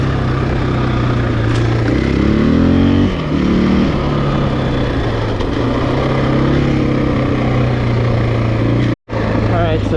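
A 2020 Husqvarna FE501S dirt bike engine drones steadily and loudly while riding, its pitch rising and falling slightly, with a brief cutout near the end and a rider talking over it throughout.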